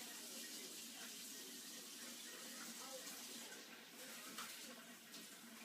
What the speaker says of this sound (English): And then I pour that water off.